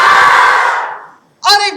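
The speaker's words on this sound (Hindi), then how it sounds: "अभी आप अपने दोनों हाथ ऊपर करके जितनी जोर से आ करके चिल्लाओगे," A seminar audience yells a loud, drawn-out shout together on cue with both hands raised, fading away, followed by a brief burst of raised voices.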